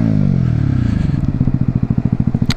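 A 125cc motorcycle rides in rush-hour traffic, its single-cylinder engine putting out a steady rapid pulsing that climbs in pitch as it accelerates, loud and close.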